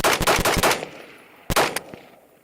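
An EMR-1 rifle fires close by during a function check, with a quick string of about five sharp shots. After a short pause come two or three more rapid reports.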